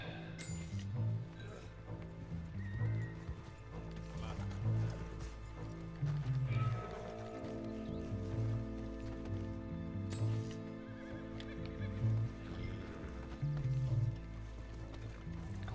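A tired horse in the video game Red Dead Online trots with rhythmic clip-clop hoofbeats, punctuated by several loud neighs and whinnies.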